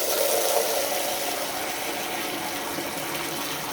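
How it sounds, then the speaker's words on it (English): Cold water, around 20 litres, gushes steadily into a home brewing vessel while an English bitter is being made, giving a continuous hissing, splashing fill with no talk. "That should be around about 20 litres there of cold water."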